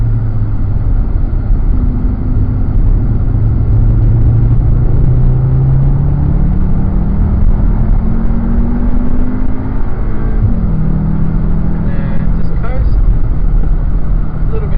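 A Cupra Formentor VZx with 310 PS laps the SMSP GP Circuit. A steady engine drone is heard from inside the cabin, rising and falling in pitch as it accelerates, brakes and coasts.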